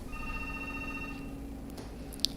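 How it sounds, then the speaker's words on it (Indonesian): A telephone rings faintly during a live call-in broadcast of a Minang regional show, with a brief electronic ring tone that fades out partway through over a steady background hum. "ini ada telepon ya, kita terima telepon dulu ya Bang Abel"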